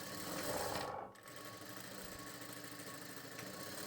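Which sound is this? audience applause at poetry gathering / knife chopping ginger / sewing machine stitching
sewing machine stitching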